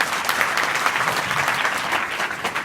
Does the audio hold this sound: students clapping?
yes